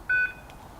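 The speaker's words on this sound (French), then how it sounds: "et j'ai reçu la notification sur mon téléphone." A home alarm system sends a phone notification: one short electronic beep, clear and close, followed by quiet.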